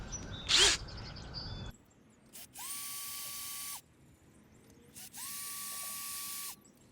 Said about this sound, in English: My new drill here.